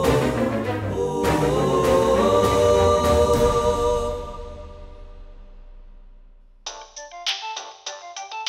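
A telephone ringtone sounds in a Tamil TV serial scene, entering as a repeating bright electronic melody of short pulses after the background music fades, fairly loud and with no talking.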